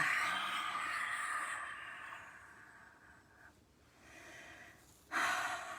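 A long, slow breath drawn out and released, soft and steady with a hushed airy texture, then a sharper breathy burst near the end.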